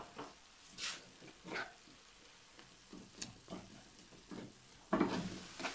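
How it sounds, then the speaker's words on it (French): Diced tomato frying and simmering in a pan, a steady soft sizzle with repeated stirring scrapes and bursts, growing louder near the end, no talking. "on rajoute la tomate dedans. On va laisser cuire tranquillement."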